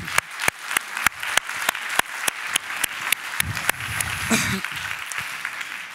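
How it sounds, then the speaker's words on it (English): A scattering of sharp, separate claps repeating at a loose, uneven pace, like a small group clapping, with a brief murmur of voices partway through. "I think these guys deserve the biggest applause."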